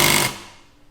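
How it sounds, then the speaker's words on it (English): A Milwaukee M12 Surge impact driver sinking a screw, a quick loud burst of rapid hammering that cuts off sharply and leaves a fading ring. "So we're gonna just drive some screws in."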